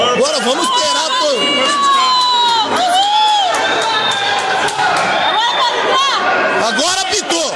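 A crowd at a Jogos Regionais 2024 match between Bragança Paulista and Valinhos erupts in victory, with loud, continuous cheering, whooping and excited shouting from many voices, including high-pitched children's yells, sustained throughout.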